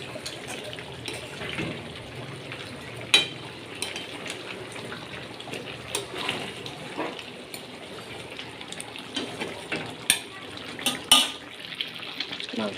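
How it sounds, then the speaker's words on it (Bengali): Meat being sautéed with spice masala in a pan, a steady low stir-fry hiss broken by scattered clinks and scrapes of a spoon against the pot, with occasional louder knocks close by and no talk. "এখন মাংস কষানো চলছে।"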